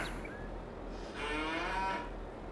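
Cattle moo in a farming video game, one drawn-out, mid-loud bellow rising and holding for about a second over a steady low background hum, with no talking.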